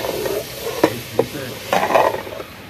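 Carrots and potatoes in a small pot on a Pakistani village stove are stirred with a utensil, a few distinct scraping knocks against the pot over a soft sizzle.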